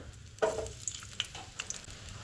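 Ginger, garlic, chillies and curry leaves fry in hot oil for a Goan mixed-vegetable stew, giving a soft, close sizzle with a few sharper crackles and pops.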